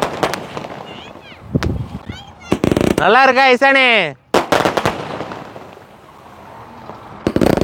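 Sivakasi skyshot fireworks burst outdoors in a rapid crackling volley with loud bangs, then a sustained whistling, fizzing effect and more sharp pops. People talk over the display, and a voice is briefly heard.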